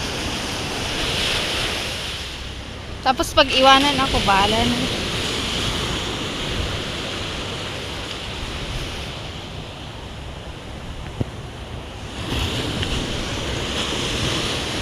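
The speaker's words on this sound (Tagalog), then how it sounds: "sound ng dagat." Steady ocean surf washes continuously onto a beach where swimming is prohibited, a broad roaring wash mixed with wind buffeting the microphone, with a brief burst of speech partway through.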